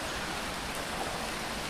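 Steady rain hisses evenly in the Phoning Home video game, a constant broadband wash with no distinct drops or pauses.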